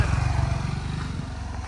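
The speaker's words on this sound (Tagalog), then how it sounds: "Motor lang doon sa dulo." A motorcycle passes far off in a quiet, peaceful rural farming area, its low engine drone steady and faint for a couple of seconds with no other sounds over it.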